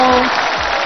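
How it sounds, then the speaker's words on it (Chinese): A studio audience applauds on the 2010 Spring Festival Gala talent show, a brief, dense, steady wash of clapping that fills the moment. "我们现场的掌声啊"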